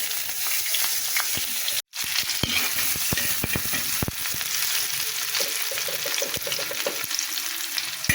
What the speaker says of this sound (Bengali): তেল গরম হয়ে গেছে জিরে দিয়ে দিলাম এবার একটু পেঁয়াজ রসুন দিয়ে দিলাম